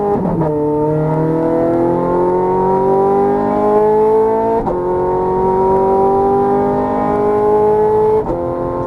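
A Ferrari 430 Scuderia accelerates hard on a racetrack, its high, loud engine note climbing steadily through the rev range, with two brief breaks at gear changes before climbing again.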